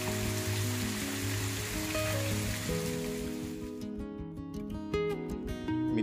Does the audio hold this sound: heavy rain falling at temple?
yes